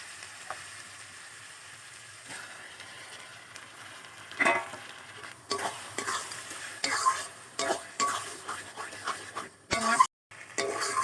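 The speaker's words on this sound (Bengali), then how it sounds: "এবারে মাছটা ঢেলে দেবো।" Fish tipped into a pan of cooked-down spice masala sizzles and fries while a spoon scrapes and stirs it in repeated bursts, with sharp clattering strokes against the pan growing busier toward the end.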